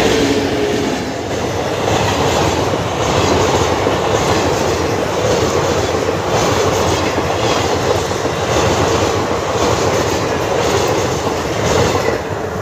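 A train passes close by a trackside spot in a rural village, a loud continuous roar of wagons with steady clickety-clack of wheels over rail joints throughout, with no talking.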